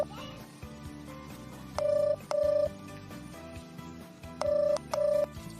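A telephone in an Assamese cartoon rings unanswered in two pairs of electronic tones, each pair made of two short bursts, while background sounds continue between the rings.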